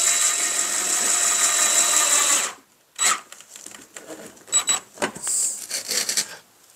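A power driver runs screws into a custom-built wooden shipping box, a steady whine for a couple of seconds, then sharper clicks, knocks and short bursts as the work continues nearby.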